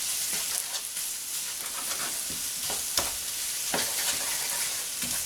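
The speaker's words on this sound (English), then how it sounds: "I'm just going to kind of stir that in as well." Harissa tomato paste being stirred into vegetables frying in a pan, with a steady sizzle and scattered scraping strokes of a spoon, fairly quiet and without talk.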